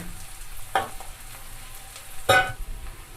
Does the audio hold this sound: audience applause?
no